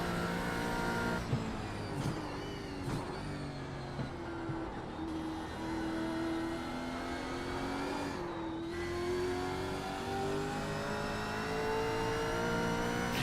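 V8 Supercar racing engines in the iRacing sim at Bathurst, mixed with TCR touring cars, drone loudly and continuously, with pitch climbing through the gears and short dips at shifts.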